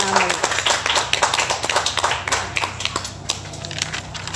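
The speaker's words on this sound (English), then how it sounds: "How about a round of applause for at least getting them in" Applause from a small audience during a live-streamed nominations show, sparse individual claps, some sharp and close, spread unevenly and thinning toward the end.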